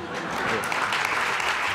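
Studio audience applause at a Spanish TV comedy show, a dense, steady wash of clapping that holds evenly at close range throughout.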